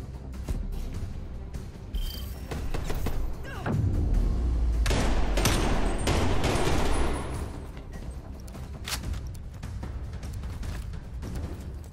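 Rapid bursts of gunfire and heavy booms from a firefight in Call of Duty: Black Ops Cold War, with a dense loud volley in the middle and sparser shots before and after, no talk.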